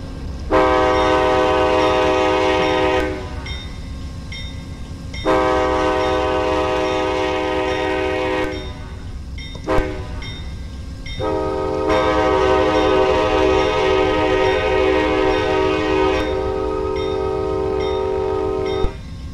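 A loud, chord-like Amtrak train horn in a train simulator game blasts in long sustained bursts, separated by short pauses and a brief toot, over a low rumbling engine.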